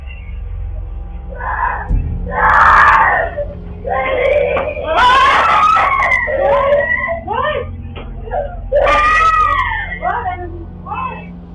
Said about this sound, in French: on entend par la suite la petite fille crier